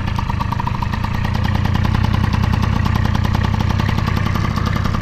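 A scooter engine, still in stock form before any tuning, runs close and loud, a steady, even idle throbbing throughout with no voices.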